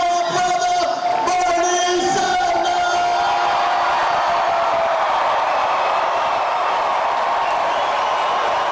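Large crowd of over 3,000 at a Bernie Sanders presidential campaign rally in Rock Hill, cheering and yelling loudly and continuously, a dense roar with whoops and shouts.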